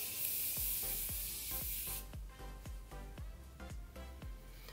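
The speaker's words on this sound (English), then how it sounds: "now I'm going to go ahead and set my makeup, and the one that I used that day was a continuous setting spray from Morphe" A Morphe continuous setting spray releases a bright, fine hiss that lasts about two seconds and then cuts off, while a regular series of soft clicks or taps runs under and after it, close and quiet without talk.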